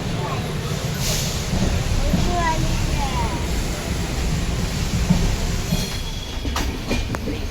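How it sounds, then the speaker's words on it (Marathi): A Diva–Chiplun MEMU train rolls along the Konkan Railway at a crossing, a steady loud rumble of wheels with brief squeals and rhythmic clicks, heard from close by with voices in the background. "दिवा चिपळूण ट्रेन आपल्याला इथे दिव्याला क्रॉसिंगला भेटते"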